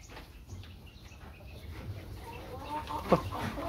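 Brahma chickens on a farm, with a rooster among them, give soft clucks and rustles at a quiet distance, and one brief louder call near the end.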